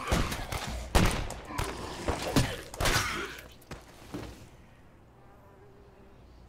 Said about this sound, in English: Damn fly felt like, sounded like it flew right in my ear.